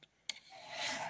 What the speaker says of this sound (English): I'm filing a little bit more